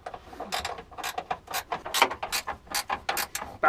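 Ratchet clicks in quick bursts while tightening a nut on the coilover suspension of a Nissan Skyline R34, close and fairly loud, with short pauses between strokes and no talk.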